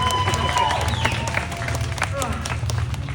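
An audience claps over a rumbling, busy background with scattered voices, a moderate patter of hands that stays fairly even for a few seconds.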